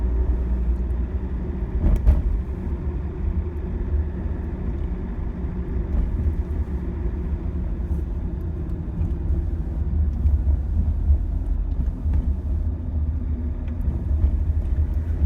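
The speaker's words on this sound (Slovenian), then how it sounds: "Promet je zanimivo umirjen in ni večjega prometnega zamaška." Road traffic rolls past at a city intersection, a steady broad rumble of car engines and tires with one brief louder passing swell early on, and no one speaking.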